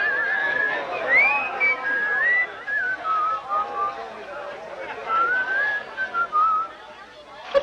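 A man whistles a wandering, melodic tune in clear sustained phrases with short pauses, faint room murmur beneath, in a 1942 jazz film scene.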